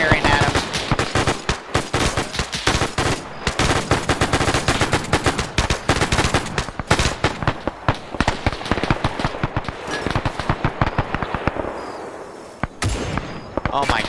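Rapid, sustained bursts of anti-aircraft gunfire in a World War II video game, loud and close, with dense repeated reports that only briefly let up near the end.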